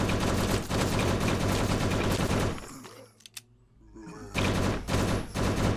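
Sustained automatic gunfire in the zombie survival game Last Hope Bunker, dense rapid bursts that cut off, leaving a short quiet gap with a couple of isolated pops before another heavy volley resumes.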